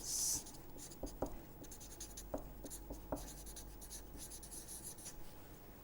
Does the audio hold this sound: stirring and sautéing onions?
no